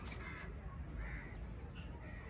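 A pet parrot gives harsh, raspy squawks up close, several short calls in quick succession over a low background rumble.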